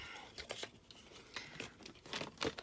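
Patterned paper cut with scissors for a pencil holder, quiet crisp snips and crinkling rustles in an irregular sequence, close and faint with no speech.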